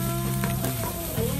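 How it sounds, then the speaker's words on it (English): Curry powder and garlic sauté in an electric pressure cooker pot, a steady close sizzle with faint scraping of a stirring spoon, no talking over it. "We throw in our curry, garlic. You really want to give it a nice stir."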